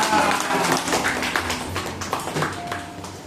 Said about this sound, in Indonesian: Oke, tepuk tangan kita semuanya